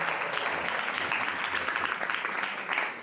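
Audience applause at a memorial tribute, a sustained even roll of many hands clapping for about three seconds before easing slightly at the end.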